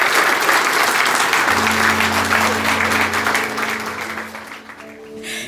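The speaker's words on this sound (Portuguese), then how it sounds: "Vamos aplaudir o noivo, gente." Wedding guests at a church ceremony break into steady, full applause for the groom, close and loud for several seconds, with a held musical tone sounding beneath it before the clapping thins at the end.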